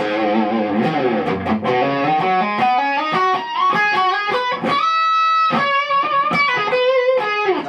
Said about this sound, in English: Now if I put the humbuckers, distortion on